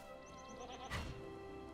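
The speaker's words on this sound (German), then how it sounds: "Ziege." A goat bleats in the Lord of the Rings Online video game, a short rhythmic series of bleats followed by a louder central cry over a steady ambient game background.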